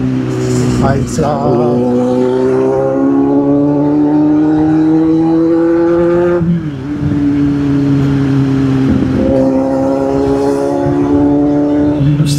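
Kawasaki Z800 motorcycle revved hard up close, a sustained roaring engine note that climbs steadily, dips sharply twice and climbs again, loud throughout with no speech.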